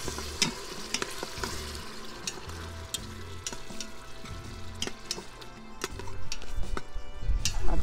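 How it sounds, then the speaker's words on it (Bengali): Ginger-garlic paste sizzles in a pan during chicken cooking while a utensil stirs and scrapes it in a steady rhythm of close clinks and knocks over continuous frying hiss, growing louder near the end. "আদা রসুন বাটাটা একটু কষিয়ে নিব"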